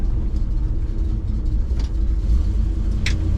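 A 1972 Ford F250 Ranger pickup drives along with a deep, steady engine rumble and road noise from inside the cab, close and loud, with faint rattles and no talking.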